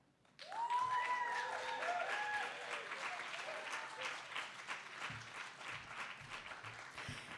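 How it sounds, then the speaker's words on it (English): Audience applause for a poet at a Boston poetry reading, a crowd bursting into loud clapping with a few whoops that gradually thins while continuing. "Give another round of applause for Abigail."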